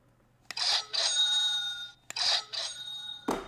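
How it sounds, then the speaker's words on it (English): A stock market opening bell rings in two bright, sustained electronic bursts, each pair of tones ringing out for about a second, with sharp clicks between and a clack at the end; no talking. "2 bell rings."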